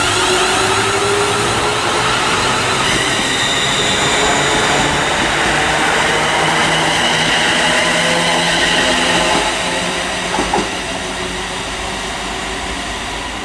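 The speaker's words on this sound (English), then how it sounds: "now departing is 380-104, heading over on the 10:10 ScotRail service over to Ayr" A ScotRail Class 380 electric train pulls away from Paisley Gilmour Street station on a service to Ayr, with a loud, sustained rumble and traction whine, briefly broken by a couple of clunks near the end.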